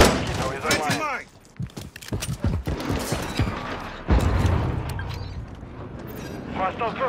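Bursts of automatic gunfire and impacts from Call of Duty Modern Warfare 3 multiplayer with an MTZ-556 rifle, loud and close in rapid clusters, mixed with in-game voice callouts and a deep boom partway through.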